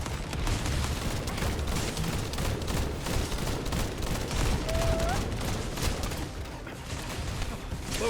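Sustained rapid gunfire from the video game The First Descendant, a dense continuous barrage of shots filling the whole stretch, with a voice speaking over it.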